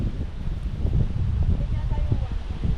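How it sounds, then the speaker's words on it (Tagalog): Strong wind gusts across the mountain viewdeck at Mt. Banahaw, a loud continuous rumbling buffet on the microphone with rustling, and the wind never lets up. "Lakas ng hangin, no?"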